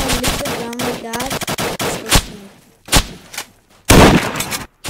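Gunfire in a war video game: sharp bursts and single loud shots crack out at irregular intervals, the last one heaviest, with a voice talking briefly at the start.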